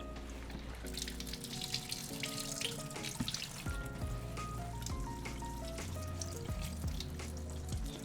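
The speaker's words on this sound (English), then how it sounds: "So we're just gonna rinse this once again with our Kangen water." Raw beef rinsed under steady running Kangen tap water, a continuous close splashing stream that carries on without pause, with a faint tonal hum in the background.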